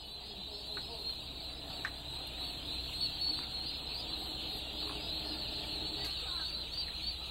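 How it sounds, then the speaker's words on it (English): Day-old turkey poults in a barn peck at feed while softly peeping and chirping in a steady, continuous chorus, with a constant high-pitched ventilation hum and occasional faint taps underneath. "these turkeys have been in here approximately 15 to 20 minutes, and if you look closely, they are pecking at this feed"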